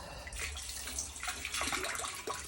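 Water gushes from a yellow hose at a sandy well site, a steady close splashing rush with bubbling, gurgling bursts rising toward the end and no talking.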